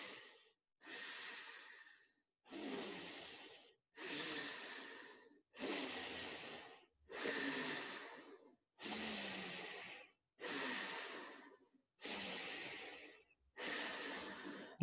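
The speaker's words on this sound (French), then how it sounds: "c'est comme la respiration abdominale, mais un petit peu plus rapide. Et la respiration se fait par le nez" Rapid abdominal breathing through the nose during a yoga exercise: nine sharp, regular nasal breaths about every 1.7 seconds, fairly close and alone with no talk.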